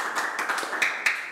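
Audience applause at a campus talk session on a tourism travel diploma programme at a tourism polytechnic: a steady, moderately faint wash of many hands clapping, with a few sharper claps standing out.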